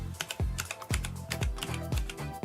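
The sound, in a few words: pressing keys on Tewell mechanical gaming keyboard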